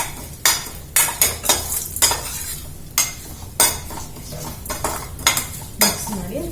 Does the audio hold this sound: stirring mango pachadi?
yes